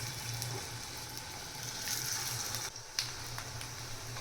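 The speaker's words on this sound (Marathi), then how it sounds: "आता इथे तेल तापल्यानंतर सावकाश इथे आपण हे टिक्की सोडून घ्यायची आहे" Chickpea tikki shallow frying in hot oil give a faint, steady sizzle with soft crackles and a brief hiss near the end, with no talking.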